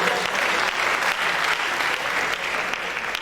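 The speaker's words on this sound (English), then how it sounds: "Please let's clap for Architect Father" An alumni reunion audience applauds steadily, with dense, even clapping from many hands at a fairly loud level, sustained without pause for the whole stretch and no talk over it.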